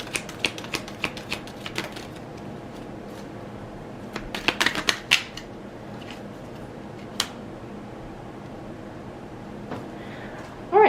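Tarot cards being shuffled and handled, a run of quick close papery riffles and flicks with a few sharper snaps, fairly quiet against a soft room background, with no talking.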